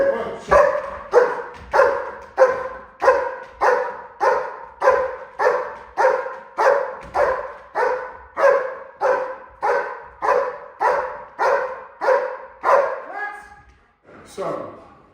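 Malinois and German Shepherd dogs bark in a fast, relentless rhythm, about twenty loud, close barks at a steady pace, ending in a few quicker yips and a short pause.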